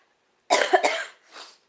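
A person coughs in a short burst of two or three harsh, raspy coughs up close, followed by a softer, fainter cough.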